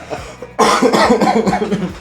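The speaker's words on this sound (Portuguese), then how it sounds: "Eu ainda tô com um pouco de tosse, ele me faz rir," A burst of harsh coughing, several rapid coughs in a row, loud and close, after a brief quieter moment.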